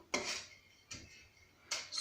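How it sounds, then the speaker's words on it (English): Dry sunflower and flax seeds scraped and turned in a roasting pan, three short dry rattling scrapes spaced apart, close and quiet with no talk. "you put them in the pan as they are dry and keep turning them as they roast"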